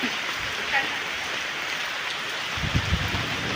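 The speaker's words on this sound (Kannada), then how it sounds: "ಮಳೆ ಒಂದು ಕೇಳಿಸ್ತಿರ್ಬೋದು ಸೌಂಡು ನಿಮಗೆ ಮಳೆದು ಸಿಕ್ಕಾಪಟ್ಟೆ ಮಳೆ ಇದೆ" Heavy rain pours steadily in Miraj, a dense continuous hiss with no pauses and a few faint low knocks near the end.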